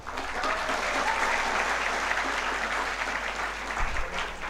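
A crowd at a public speech claps together in dense, sustained applause, steady and fairly close for the whole stretch with no talking over it.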